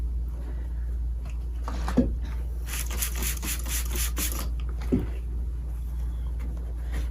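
A magic eraser scrubs gently over laser engraved acrylic in short back-and-forth rubbing strokes, soft and close, over a steady low hum.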